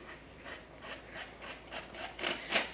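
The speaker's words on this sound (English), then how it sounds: "you're gonna get a little grinding because I use kosher salt." A sifter rubs and grinds as flour, baking powder and coarse kosher salt are worked through it, a steady scratchy rasp in a series of rhythmic strokes that build louder toward the end, with no talking.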